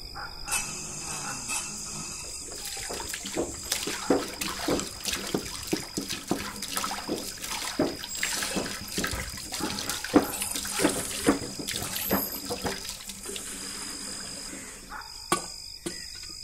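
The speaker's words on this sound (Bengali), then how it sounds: "কুয়োর দিকে হাত পা ধুতে গেলাম" Water drawn from a well splashes and pours as hands and feet are washed: irregular close splashes and trickles over a faint high insect-like chirring, with no voices.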